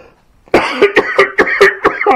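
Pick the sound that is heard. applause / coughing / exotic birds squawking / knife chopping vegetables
coughing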